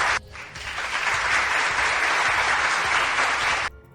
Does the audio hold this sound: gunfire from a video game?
no